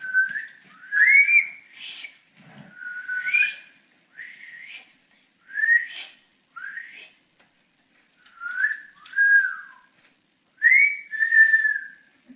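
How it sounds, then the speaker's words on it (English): A person whistles a series of short, sliding tones in separate bursts with brief pauses between them, close and clear against near silence. "So then he just showed me that he could whistle"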